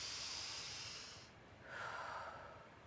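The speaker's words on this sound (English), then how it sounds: "breathe deep, cleansing breaths." Slow, deep cleansing breaths drawn in and let out during a guided meditation, two long airy hisses close to the mic with a short pause between them and no talking.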